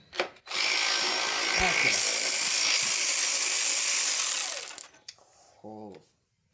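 A greasy-socketed power tool loosening bolts during an inline-six engine teardown: one sustained, loud whirring burst lasting about four seconds, with brief clanks before it and a short spoken word afterward.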